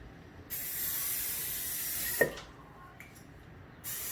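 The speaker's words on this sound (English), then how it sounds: "we are going to spray the inside of a large bowl. So spray the whole thing." A steady hiss of aerosol cooking spray coating the inside of a large bowl, held for a few seconds, then a short clink and brief follow-up bursts of spraying.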